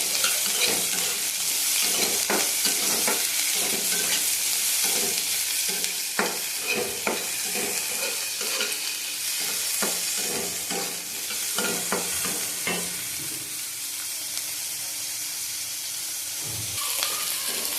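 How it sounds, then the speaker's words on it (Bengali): Shrimp pieces frying with nigella seeds in a pan of hot oil, a steady broad sizzle with frequent stirring clatters and scrapes throughout, close and fairly loud, no talking. "চিংড়ি মাছগুলি দিয়ে দেবো।"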